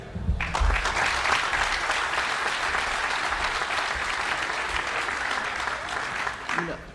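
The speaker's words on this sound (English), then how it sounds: "Please, round of applause for U.S. Representative Joseph Gow." A crowd at a Space Shuttle Atlantis external tank event applauds as U.S. Representative Joseph Gow is introduced, with a brief voice at the start giving way to full, sustained clapping that fades near the end.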